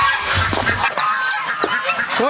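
Farm fowl on a morning call out in loud, repeated honking squawks near and overlapping, with a voice briefly mixed in.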